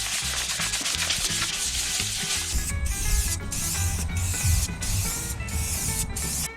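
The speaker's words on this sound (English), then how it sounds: "Sand it up so we get something nice and flat" Power sanding of rusty Triumph Tigress scooter bodywork, a steady close abrasive rasp that runs throughout with brief regular interruptions near the end.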